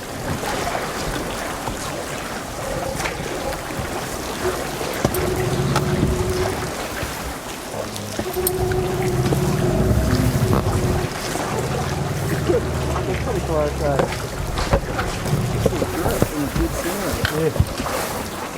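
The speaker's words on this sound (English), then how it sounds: "Even the noise of the water is great, hey?" Streams of water pouring off the side of an iceberg into a meltwater pool, a steady rushing and trickling with wind noise, while people talk over it at times.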